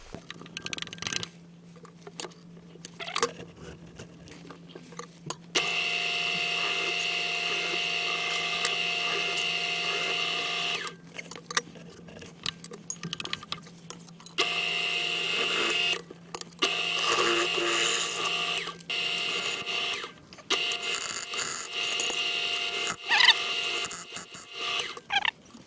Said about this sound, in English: I've got this little cobalt spot drill which I'm going to use just to spot the holes